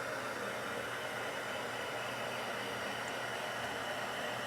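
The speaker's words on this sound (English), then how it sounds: "So we're going to turn on our heat gun, give it a couple seconds to warm up" A heat gun for embossing runs steadily at close range, a constant broadband hiss with no breaks or changes, alone and without any voices.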